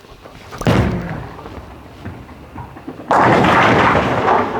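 A bowling ball thrown down an oiled lane: a sharp thud as it lands, a low rolling rumble, then a loud crash of pins scattering that carries on to the end, close and without talk.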